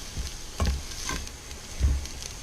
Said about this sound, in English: So, alright, so it's sizzling.